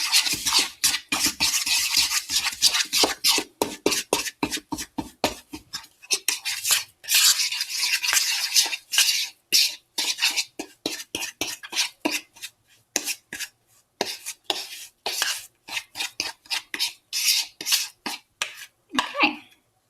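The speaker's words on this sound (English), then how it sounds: "Stir it up." Spoon scraping and stirring macaroni and cheese with paprika in a pot, rapid repeated scrapes in uneven bursts with brief pauses, close and dry.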